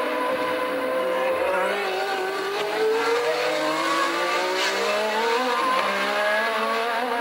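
Williams and other race cars on Michelin radial tyres roar through the 1981 Long Beach street circuit, a continuous loud engine howl with rising and falling pitch as cars pass, with faint tyre squeal.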